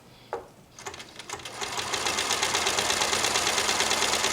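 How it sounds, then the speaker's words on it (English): A sewing machine stitches a zigzag circle with an embroidery foot: a few clicks, then a fast, even mechanical whir that builds and runs steadily up close. "we are going to do this circle right here with that little zigzag"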